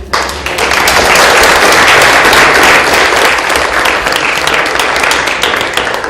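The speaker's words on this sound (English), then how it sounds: "I think a round of applause for all of them." Loud, close audience applause for a panel discussion, a thick continuous patter of many hands that swells quickly and carries on evenly for several seconds.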